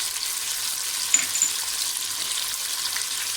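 Garlic sizzling steadily in an oily pan on a home stove while making a turnip, radish and spinach sabzi, a soft continuous fry with a faint stir bump, no voices.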